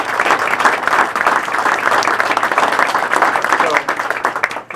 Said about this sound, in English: I think you should applaud again